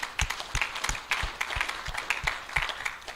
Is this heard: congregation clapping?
yes